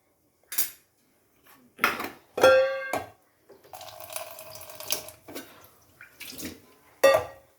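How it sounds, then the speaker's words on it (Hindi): Water poured into a pot for making tea in a home kitchen, a steady splashing pour lasting a few seconds between clinks of metal dishes and utensils, close and fairly clear. "अभी मैं डालूंगी इसमें हल्का पानी।"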